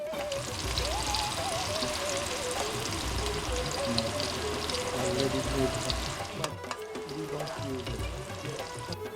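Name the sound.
onions frying in oil in a pot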